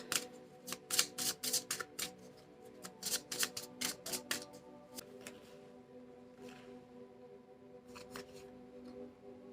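A tarot deck is shuffled and handled up close and a card is drawn: rapid papery flicks in bursts, then softer rustling over a faint steady hum.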